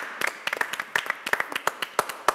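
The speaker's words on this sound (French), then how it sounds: "Bravo, vous pouvez vous applaudir." Studio audience members clap for themselves, with scattered, uneven hand claps from a handful of people, close and crisp, with brief gaps between bursts.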